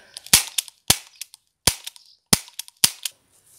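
Five sharp, muffled pops from a toy cap gun fitted with a silencer, fired singly at irregular intervals about half a second apart, each with a faint click after.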